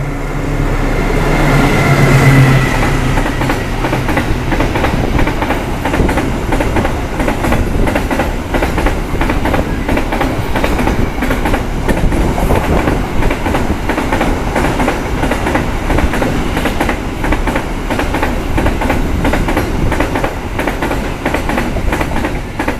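An Argo Merbabu passenger train runs at full speed near Babakan station, a loud, steady rumble of wheels and cars with continuous rail clatter throughout, no voices.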